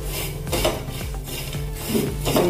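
Poppy seeds being dry-roasted in a pan for coconut laddu, a steady scraping and stirring of a spoon against metal with a faint continuous rustle, close and moderately loud with no talk.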